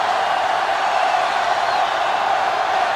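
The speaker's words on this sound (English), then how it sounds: "The crowd really making it difficult." Steady roar of a stadium crowd in the college football video game NCAA Football 2005, Ohio State against Michigan, a dense continuous wash of voices at even loudness throughout with no distinct cheers standing out.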